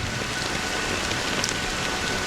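Steady rain falls in a video game city, a dense, even hiss of drops on hard surfaces that stays constant throughout with no other sounds.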